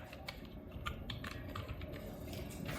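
Keys tapped on a computer keyboard while entering a command in Windows 7, a steady run of light clicks over a low background hum, no talking.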